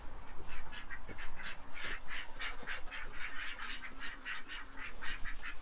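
A flock of ducks at a pond being fed, quacking in quick, rapid bursts, fairly close and continuous, with no talking.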